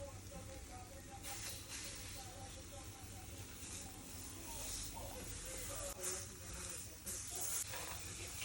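Easy crepes sizzle in a pan, a steady hissing fry running throughout with a few brief louder bursts of crackle toward the end, under a person talking.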